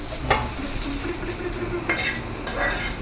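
Egg and chapati frying in a hot pan give a steady, close sizzle throughout, with a few sharper scraping and stirring clicks over the hiss.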